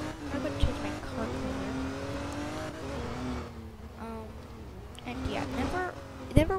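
Car driving in the Roblox game ER:LC as a police officer, a steady engine drone with shifting pitch and brief revs, running under game sounds and a voice talking throughout.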